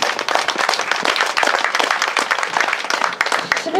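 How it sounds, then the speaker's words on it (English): A crowd at a community gathering in Fenton claps loudly and continuously in a dense, even burst of applause. "applause, please."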